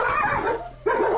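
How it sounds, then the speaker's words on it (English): A frightened dog gives a run of high yips and whimpering barks, close and fairly loud, with a short dip before the whining resumes. "The dog is afraid."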